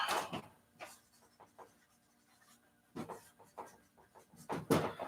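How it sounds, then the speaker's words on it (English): Pen scratching notes on paper in a quiet room, several short bursts of writing strokes separated by pauses, close and soft. "let me write that down here so I can make sure."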